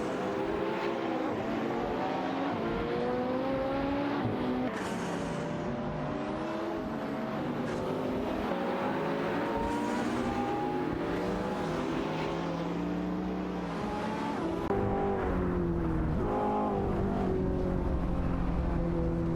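Race cars in a video game race, supercars like a Pagani Zonda F and Ferrari, roaring continuously with engine pitch rising and falling through gear shifts and overlapping passes.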